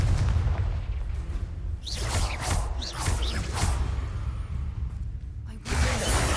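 A Confringo fire spell bursting in Hogwarts Legacy, a sustained deep rumbling roar with whooshing flame surges and crackling, ending in a fresh blast near the close.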